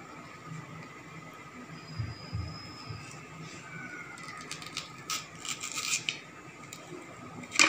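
A knife cuts a shallow slit lengthwise into ladies finger okra, making soft scraping, snipping and rubbing sounds that grow denser toward the end, close up and without speech.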